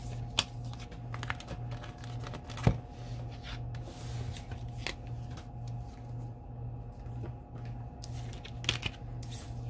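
Tarot de la Nuit cards handled and shuffled, quiet papery clicks and light rustles scattered over a steady low hum, with a few sharper snaps standing out.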